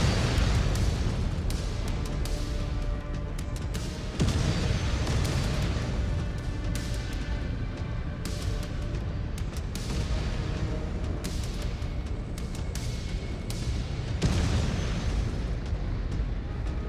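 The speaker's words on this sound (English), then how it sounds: "Whoa, artillery." Heavy artillery explosions pound the battlefield in MechWarrior 5: Clans, a dense, continuous barrage of loud booms and rumbling bursts with sharp impacts recurring throughout.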